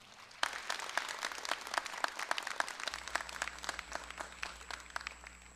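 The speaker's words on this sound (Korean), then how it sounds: "여러분, 권호섭 선배를 큰 박수로 맞아주시기 바랍니다" Audience applause greets a speaker at a Korea University graduation ceremony: dense, steady clapping from a large crowd, heard from a distance and fairly soft, with no talking.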